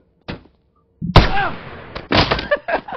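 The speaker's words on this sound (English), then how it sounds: "this is a Fortnite shotgun" A shotgun in BoneLab, a virtual reality game, fires in a quick sequence of loud close blasts, a few sharp reports with short ringing tails and a faint click beforehand.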